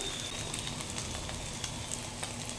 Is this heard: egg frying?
yes